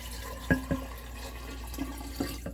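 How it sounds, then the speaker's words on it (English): Distilled water is poured into a container for a fermented Thai chili hot sauce, giving a soft, steady trickle in a quiet room, broken by a few brief splashes and knocks against the vessel. "we're going to put our water in here"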